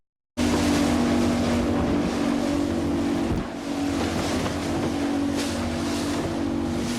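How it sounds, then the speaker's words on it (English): A fishing boat's motor runs at sea off Alaska in stormy, choppy water, a loud, close, steady drone with wind buffeting the microphone and a brief dip partway through. "get that motor started and head across the strait before it gets so rough we can't cross"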